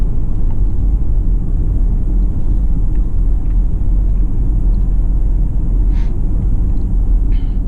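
A Mercedes GLE 300d diesel in comfort mode cruises at lower RPM, a steady, loud low drone and road rumble heard from inside the cabin.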